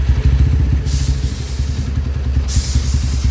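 Honda Tiger motorcycle fitted with a 72 mm stroke kit and stock carburetor, engine running loud and close with a rough, pulsing low thump, revving up twice in short bursts.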